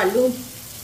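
Spices fry in a pan for aloo gosht, a brief soft sizzle that follows the tail of a spoken word.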